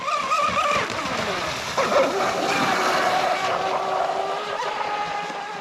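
A Proboat Mystic 29 RC boat with an upgraded brushless motor runs at full throttle, a loud sustained high-pitched whine that climbs in pitch as it speeds across the water, with splashing beneath the motor noise.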